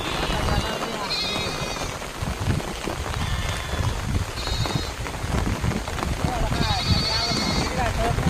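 Steady rain patters down on surfaces, a constant hiss beneath people talking, with occasional bleating animals.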